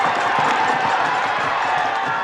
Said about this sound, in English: Boy, is this crowd coming to life for the Moon Tigers.